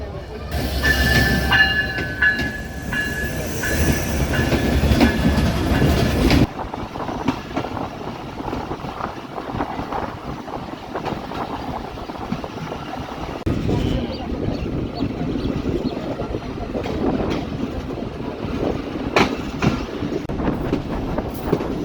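The Bhatiapara Mail passenger train runs on rails between Rajbari and Bhatiapara Ghat, with a continuous rumble and rhythmic wheel clatter. A brighter, louder stretch in the first six seconds gives way to a steadier roll, with occasional clanks.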